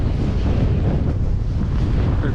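Strong north wind roars steadily into the microphone on Cumberland Island, a dense continuous rush with a faint hint of surf beneath.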